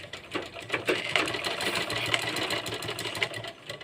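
A sewing machine stitches a girl's frock in short, uneven bursts, its needle rattling in quick rapid pulses close by, fairly quiet with brief pauses between runs.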